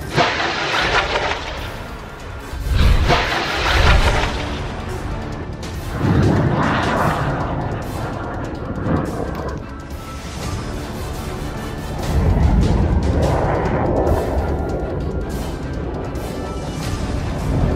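A rocket barrage fired at a military base in the Israel–Gaza war produces loud, rumbling roars and booming bursts that swell and fade over a continuous harsh noise bed.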